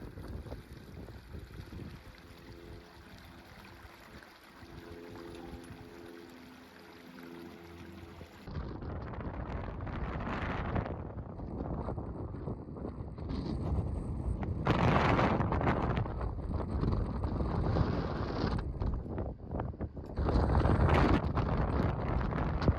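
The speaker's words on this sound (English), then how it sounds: "You can probably hear it's incredibly windy." Strong wind on a hilltop in the Cheviot Hills roars and buffets the microphone continuously, growing louder and gustier toward the end, with no other clear sounds.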